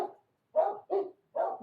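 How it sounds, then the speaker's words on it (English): A dog barks indoors, probably at the postman, in four short, muffled barks with brief gaps between them, heard at a moderate distance and fairly faint, with no talk over them. "Oh, the dog's going to eat somebody."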